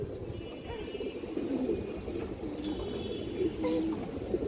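Pigeons, including a large male, coo in low, soft, repeated throaty calls over a steady background murmur.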